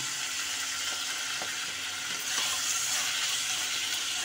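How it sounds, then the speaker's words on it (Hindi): Mutton liver (kaleji) frying in a pan gives a steady, close sizzle with soft hiss and light crackle throughout, brightening a little midway as it is stirred. "थोड़ी देर कलेजी डालकर इसको भूनना है।"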